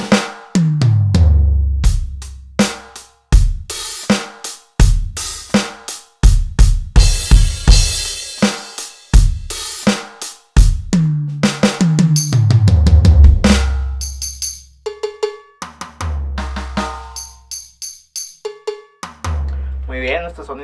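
A Roland TD-11 electronic drum kit runs through its Blues Rock preset, with loud, punchy kick, snare, tom and cymbal hits in a steady driving groove, played close and alone with no talk.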